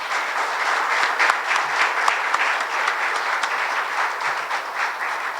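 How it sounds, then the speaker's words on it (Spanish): A seated audience at a civic lecture on democratic citizenship claps together in sustained, dense applause, steady and fairly loud from start to finish with scattered sharper individual claps and no voices over it. "pedirles un fuerte aplauso para ustedes mismos"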